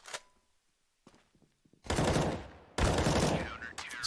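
Bursts of SMG fire in Counter-Strike on the Overpass map: a short shot near the start and a few light hits, then two long, loud sustained bursts filling most of the second half.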